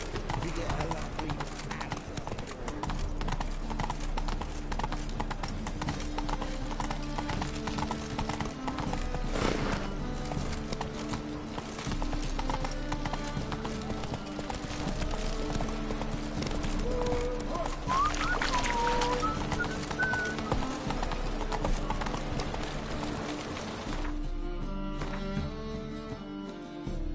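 Roach the horse gallops in The Witcher 3, with rapid, steady hoofbeats and an occasional whinny running under game music and a voice, continuing loud and unbroken.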